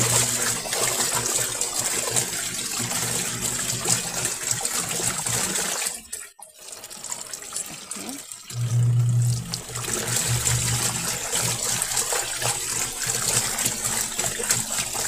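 Water sloshing and trickling while laundry is washed by hand with homemade liquid soap, a close, continuous splashing with brief pauses and a few heavier pours.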